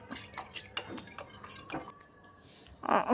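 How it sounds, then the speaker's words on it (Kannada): Roughly two tablespoons of cooking oil go into a pan for tempering while making kadale usli, heard as soft close drips and light metallic clinks of pan and utensil, ending in a louder splash-like burst. "ಟೂ ಟೇಬಲ್ ಸ್ಪೂನ್ ಅಷ್ಟು ಎಣ್ಣೆ ಹಾಕ್ಕೊಂಡಿದ್ದೀನಿ"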